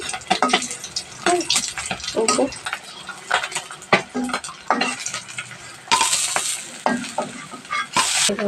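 Pieces of tilapia fish sizzle in hot oil in a pan as they brown, with repeated scraping and stirring strokes of a utensil against the pan and a few louder bursts of spitting oil.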